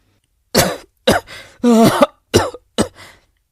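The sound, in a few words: light cough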